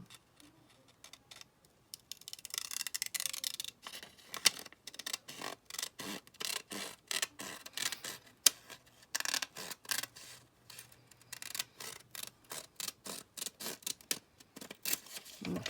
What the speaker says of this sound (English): now we're going to cut across there